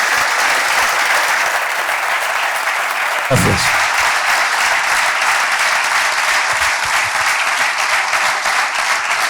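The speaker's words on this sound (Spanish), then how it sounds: "Fuerte aplauso para Gustavo." Strong, steady applause from a conference audience welcoming Gustavo, continuous dense clapping throughout, with a brief spoken thanks near the middle.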